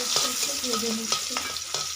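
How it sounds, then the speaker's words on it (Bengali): Chopped onion sizzles steadily in a hot pan, punctuated by a few sharp scrapes of a spatula stirring it, close and fairly loud with no talking. "পেঁয়াজটা একটু ভেজে নিচ্ছি।"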